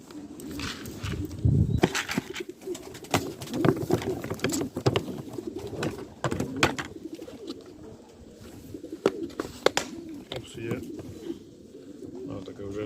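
Many pigeons coo in low, overlapping murmurs close by, with scattered clattering and wing noises throughout.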